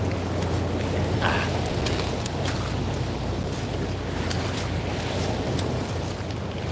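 Steady wind and rushing water on the Thames foreshore with a passenger river boat's engine rumbling past, the wash of its wake churning close by; no one speaks.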